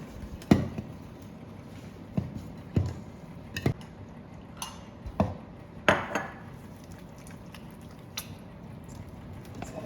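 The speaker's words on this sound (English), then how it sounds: "we're gonna scrape all the remainders from the sides" A spoon or utensil scrapes leftovers from the sides of a pot in a home kitchen while lamb stew is being cooked, giving a series of sharp, irregular scrapes and knocks close by with short pauses between them.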